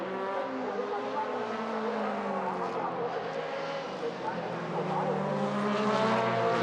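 A Mercedes four-door DTM touring race car slowing toward the pits, its engine note sliding down in pitch with gear changes, heard under a commentator's voice over continuous track noise.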